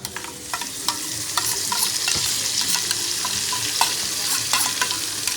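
Coconut, cashews and onion paste frying in a pan with browned onions, loud close sizzling broken by repeated sharp spatula scrapes and stirs, with no one talking.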